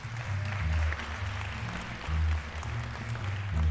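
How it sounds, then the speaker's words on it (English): An audience applauds at a school community music scholars program, a steady, moderately faint wash of clapping from a hall crowd with a low rumbling undertone throughout. "Let's give them a round of applause."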